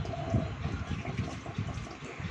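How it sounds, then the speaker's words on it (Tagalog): Dishes are washed in a kitchen sink under a weak running tap, giving a soft, steady trickle of water with faint clinks and splashes, quiet and close. "pagkatapos kong magluto, hinuhugasan ko na lahat ng mga pinagkainan at ginamit namin"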